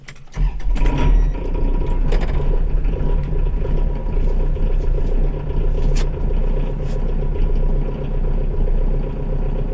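A diesel engine fires up after its glow plugs have warmed, then settles into a steady, loud, close rumbling idle that runs on without a break.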